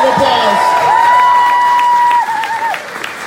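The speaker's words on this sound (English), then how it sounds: "Let's give a round of applause." An audience at Gateway City Arts gives a loud round of applause mixed with cheering and a sustained whoop, dense and close, easing off near the end.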